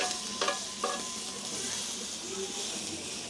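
Homemade bacon sizzles in a frying pan as it browns toward golden, a constant bright crackling hiss with a couple of sharp scraping clinks from a utensil early on.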